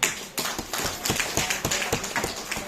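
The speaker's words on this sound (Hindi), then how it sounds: "राजू सर के लिए तालियां होनी चाहिए।" An audience at a business seminar claps for a guest, a brief round of sharp, fairly rhythmic hand claps close by with no talk over it.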